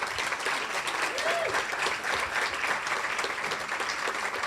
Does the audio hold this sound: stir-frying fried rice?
no